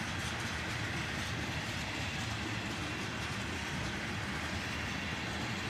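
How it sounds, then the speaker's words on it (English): A long CSX freight train with a Dash 9 locomotive and autorack cars rumbles past close by at a slow pace, with a steady roar and faint rattling of cars. "This train took over 10 minutes to go by."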